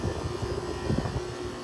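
A Haier 5,200 BTU window air conditioner's compressor runs with a strained, rough low drone and a pulsing rumble, steady and close.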